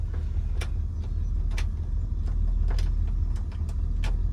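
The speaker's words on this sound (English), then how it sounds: "There you can hear the blower motor kick in." Blower motor on a 1962 Buick Wildcat two-door hardtop with a 445 V8, a steady low hum inside the car with faint clicks scattered through it and no talk.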